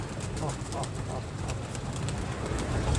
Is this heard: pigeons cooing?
yes